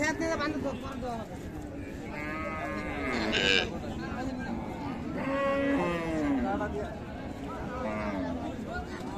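Friesian cows lowing at a busy rural livestock market in Raniganj, Dinajpur, with several moos rising over steady crowd chatter and people talking throughout.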